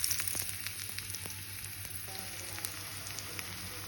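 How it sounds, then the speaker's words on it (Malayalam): Mustard seeds sizzling and popping in hot sunflower oil while tempering a Kerala sadya parippu curry, a steady soft crackle with scattered sharp pops, close and fairly quiet. "ഇനി നമുക്ക് താളിച്ചൊഴിക്കാം. കടുക് ഇട്ടിട്ടുണ്ട്."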